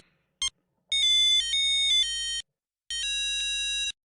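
An unanswered telephone rings in a retro-style video game, sounding as a short electronic chirp and then two long bursts of tonal ringing separated by a gap, clean and close with no voices.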